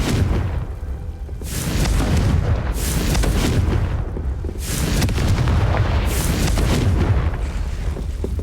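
Confringo fire spell blasts in the video game Hogwarts Legacy: a series of loud, booming explosions, about four heavy bursts in quick succession, each with a rumbling tail and no talk.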